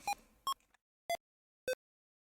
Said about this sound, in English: That's the computer sounds.